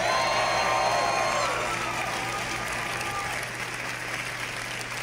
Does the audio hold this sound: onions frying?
no